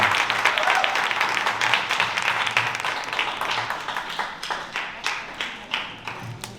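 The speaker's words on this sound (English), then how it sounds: "Give yourselves a round of applause." An audience at a community homeownership workshop claps loudly. The dense, steady applause fills the room and thins into scattered individual claps near the end.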